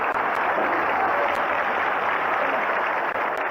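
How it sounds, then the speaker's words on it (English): Enthusiastic applause fills a parliamentary chamber in Indonesia after a vote electing General Nasution, a dense, steady roar of many hands clapping at once, loud and continuous with no voices over it. "the enthusiastic applause that follows it"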